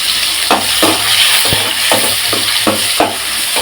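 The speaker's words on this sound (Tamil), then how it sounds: "வெங்காயம், தக்காளி நல்லா வதங்கட்டும்." Onions and tomatoes sizzle and fry in a pan for a kulambu, a steady crackling hiss broken by a few stirring scrapes at regular intervals, close and loud with no talking.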